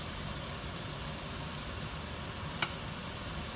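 Ground meat for spaghetti meat sauce browning in a pan, a continuous soft sizzle at low level with one brief click partway through.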